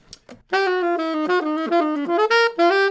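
A solo instrument plays a quick descending chromatic run of clear sustained notes, stepping down in pitch, bright and close, after a couple of soft taps.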